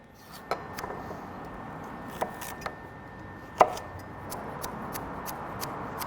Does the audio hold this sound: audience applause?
no